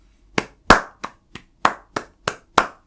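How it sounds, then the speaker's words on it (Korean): Eight sharp, distinct hand claps ring out one after another at a slightly uneven pace, each crisp and close, with no other sound between them, from a podcast host opening an episode. "박수 먼저 치고 시작하겠습니다"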